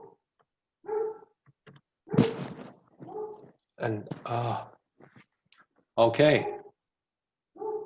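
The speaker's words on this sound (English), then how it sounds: "God, I hate that dog so much." A dog barks and yips in several separate bursts spread over a few seconds, close by, alternating with people talking nearby.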